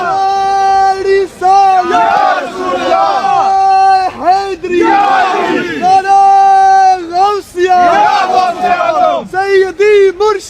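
A large outdoor crowd at a petition handover on Downing Street roars a loud unison response to a takbir call, voices swelling in repeated powerful shouts, with one amplified voice leading between the bursts.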